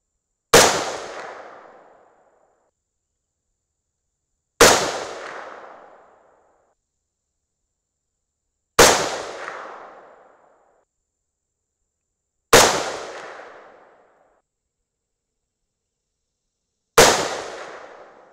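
Five single rifle shots fired through a Silencerco muzzle brake, each a sharp loud crack with a fading tail, spaced about four seconds apart with silence between them.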